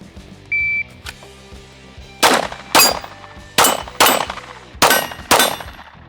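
A shot timer's short electronic beep, then after a pause six sharp pistol shots in quick succession, loud and close with brief echoing tails, the first pair slightly spread and the rest rapid.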